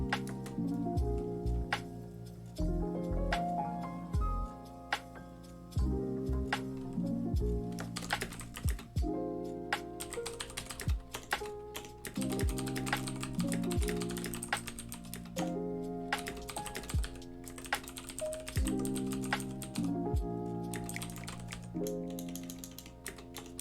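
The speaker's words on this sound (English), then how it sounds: "give you guys what you really, really want, which is the clicky clacks" Computer keyboard typing, a steady run of close, clicky keystrokes in uneven bursts that carries on throughout over tonal background music.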